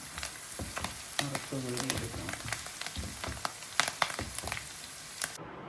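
Mustard seeds and curry leaves fry in hot oil for a mango pickle tempering, a close, steady sizzle with sharp crackling pops scattered throughout, and a voice heard faintly partway through.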